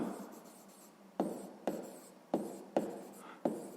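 A pen scratches across paper while a maths solution is written out, with quiet, close scribbling strokes broken by several sharp taps as each line or mark begins.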